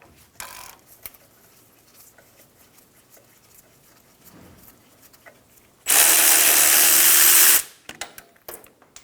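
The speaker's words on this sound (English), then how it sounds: "Using a 17mm socket," An impact tool or ratchet with a 17mm socket spins off the front brake caliper bolts on a 2000-2006 Toyota Tundra, a loud, close whirring burst of under two seconds between light clicks and handling noise.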